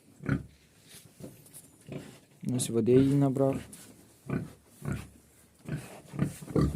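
A young pig, judged too poor to keep as a breeding sow and raised for meat, grunts and squeals in a pen in one brief close burst, with someone talking before and after.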